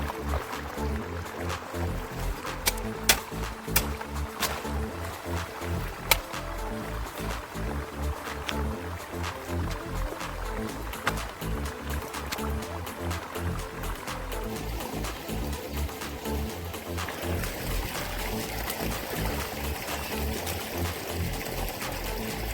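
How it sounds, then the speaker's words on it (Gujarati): Irrigation water flowing through a wheat field on a Gujarati farm, a steady outdoor gurgle and trickle with occasional sharper splashes, heard close and continuously over about twenty seconds. "હવે અટાણે જો હાલે છે પાણી જોઈ લ્યો."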